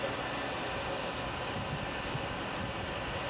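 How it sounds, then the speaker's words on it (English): A purple household blow dryer runs steadily to warm motorcycle helmet intercom adhesive, a constant close-up broadband whoosh of fan and airflow with no breaks. "I'm actually going to take my wife's nice fancy purple blow dryer here."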